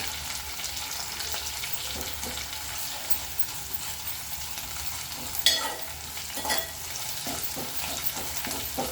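Ginger garlic paste frying in a pan while being stirred, a soft steady sizzle broken by spoon scrapes and a couple of louder clatters, fairly quiet overall.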